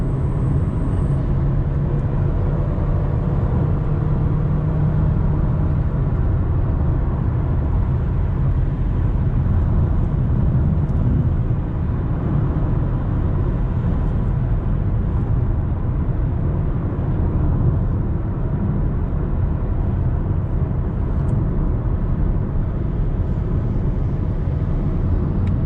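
Steady, loud road and engine rumble from inside or near a moving Toyota Corolla on a long drive from Karachi toward Islamabad, a continuous broadband drone with no pauses, no talk heard.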